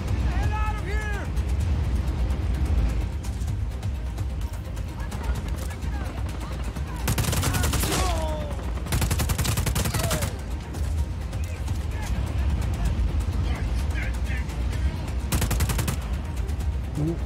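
Bursts of gunfire in the open-world action game Just Cause 4, heard in several dense, loud volleys of a second or two each, set against a busy background of engine rumble and other game noise, with people talking over it.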